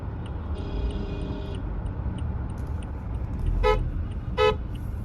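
Car horns toot in busy Pakistani street traffic: a sustained honk early on, then two sharp separate blasts near the end over a constant low road rumble.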